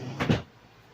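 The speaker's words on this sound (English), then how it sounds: "Sorry about my drawer." A kitchen drawer shuts with a single quick, close, muffled thud-and-rattle lasting a fraction of a second, followed by quiet room tone.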